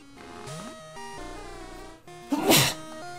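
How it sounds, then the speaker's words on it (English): A person's sneeze bursts out loudly and close, preceded by strained, hesitant breathing, over cheerful chiptune music and sound effects from a Pokémon Silver randomizer game. "I have to sneeze, but it doesn't want to go."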